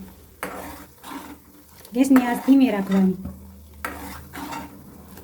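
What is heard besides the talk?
stirring ghee in a pot while heating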